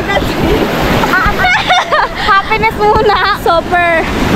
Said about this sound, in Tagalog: Super big kanina ng alon.